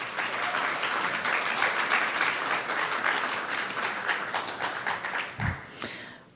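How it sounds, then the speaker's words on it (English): Dense audience applause at a Boise entrepreneur week pitch event, steady and loud for several seconds before thinning out, with a low thump near the end. "Once again, give them a round of applause."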